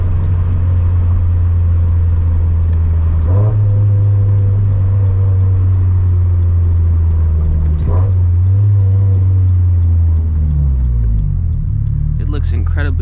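A turbocharged FRS with a loud aftermarket exhaust drives at night, a deep droning rumble from inside the car rising and falling as it shifts gears, with a burst of revving near the end.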